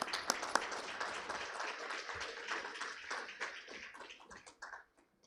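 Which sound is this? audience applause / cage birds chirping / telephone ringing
audience applause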